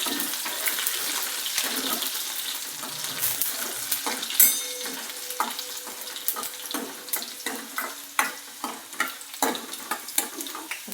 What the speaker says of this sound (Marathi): कांदा थोडा गुलाबी रंगाचा होईपर्यंत हलवत राहा